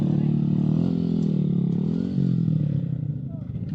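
A Honda XRM motorcycle on a rough hard trail, its engine droning steadily up close with some clatter as it labors, while a voice talks over it.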